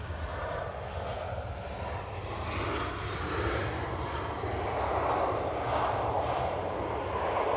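A TUI airliner bound for Antalya at Manchester Airport, its jet engines a steady broadband roar that swells slightly toward the end, heard continuously from moderate distance with no talk.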